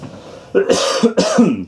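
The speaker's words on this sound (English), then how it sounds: "Cough, cough." Two rough, throaty coughs close up, one right after the other, loud and brief.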